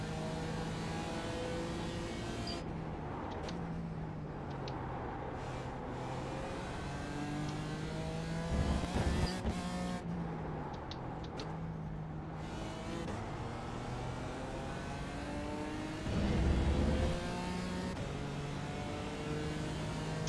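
NASCAR race cars racing at Phoenix, engines droning and revving continuously with rising and falling pitch as cars pass, loud and steady throughout with occasional louder surges.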